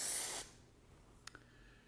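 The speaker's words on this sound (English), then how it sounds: "Let's spray some out on some paper here." A short, bright hiss of 3M High Strength 90 spray adhesive onto paper lasts under half a second, followed by quiet and a couple of faint clicks.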